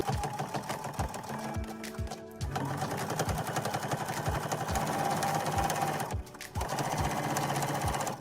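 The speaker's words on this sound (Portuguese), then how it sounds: "abaixa seu pezinho de máquina e continua costurando com a mesma distância de pé de máquina" A sewing machine stitches fabric with a fast, steady mechanical whir and rapid needle thumps, pausing briefly twice before running on again.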